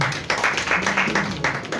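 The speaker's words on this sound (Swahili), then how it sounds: "So jipigie makofi tafadhali." An audience claps for a nominee at the ETA Awards Kenya 2023 unveiling, producing a brief burst of dense, moderately loud applause that stays steady in a hall.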